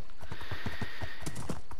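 Hooves clip-clop in quick steady beats from a spotted horse in Minecraft, close and clear, with a brief whinny rising in the middle.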